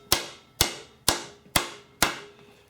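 Five sharp metallic strikes of a light bat hammer on sheet metal during tuck shrinking on a stump, evenly spaced about half a second apart, each ringing briefly, close and clear with no talking.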